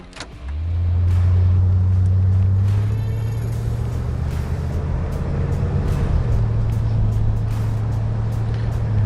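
A 1981 Chevrolet Corvette with a recently rebuilt engine drives along, its low steady engine rumble loud and close inside the cabin, the pitch rising and shifting with gear changes, no talking.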